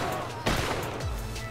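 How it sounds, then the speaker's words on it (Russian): A single sniper rifle shot in the video game GTA 5 cracks loudly about midway through, a short sharp blast over steady game ambience and a faint low rumble. "Еще раз выстрел, видимо,"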